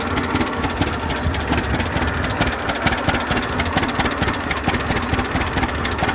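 A 1937 unstyled John Deere A tractor engine runs after a cold start on a near-freezing day, with loud, steady, fast knocking engine pulses throughout.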